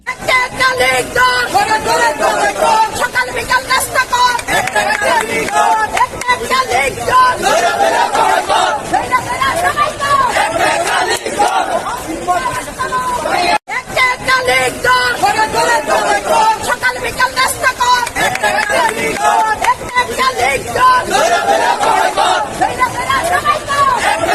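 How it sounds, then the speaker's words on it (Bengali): A dense crowd chants slogans in a street procession at a rally, with loud, continuous massed voices and shouting that carry steadily throughout without a break. "সেখানে একজন বিএনপি নেত্রী লাঠি নিয়ে মিছিল করছেন এবং সন্ত্রাসী স্লোগান দিচ্ছেন।"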